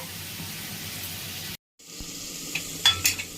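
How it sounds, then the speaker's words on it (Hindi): Spicy mushroom masala fries in a pan, giving a steady close sizzle. It breaks off briefly, then returns with a few light clinks and stirring scrapes. "बर्तमान आम छतु को मसला सहित कवर करी फ्राई करिबा।"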